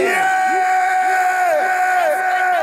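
A studio audience cheers loudly, with whoops and yells rising together into a dense, sustained roar of crowd noise.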